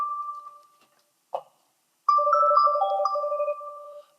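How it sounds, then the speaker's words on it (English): A telephone ringtone chirps in two bursts of repeating electronic tones, a short one at the start and a longer warbling melody later, separated by silence and a brief click. "So my telephone is ringing."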